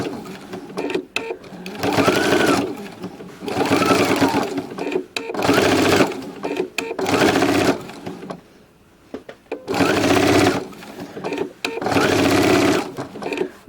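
Sewing machine stitching binding tight along a piping cord, running in several steady bursts of a few seconds each with short pauses between, close and fairly loud.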